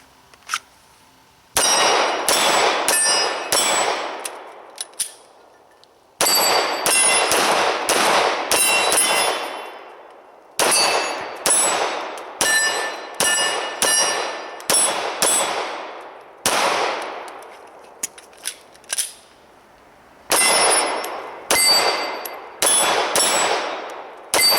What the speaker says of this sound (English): try to shoot relatively quickly and get good hits on target so they actually ring.